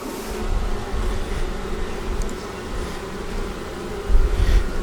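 Honey bees hum steadily around an opened hive whose brood frames carry few nurse bees, a dense close buzz that swells briefly louder near the end.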